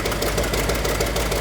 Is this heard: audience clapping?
no